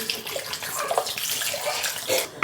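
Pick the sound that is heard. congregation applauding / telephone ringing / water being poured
water being poured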